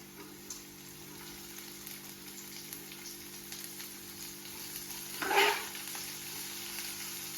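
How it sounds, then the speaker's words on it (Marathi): Onion sautéing in a pan makes a soft, even sizzle at low volume, with one brief louder scrape of stirring near the end. "तो कांदा आता व्यवस्थित पद्धतीने आपण परतून घेतलेला आहे"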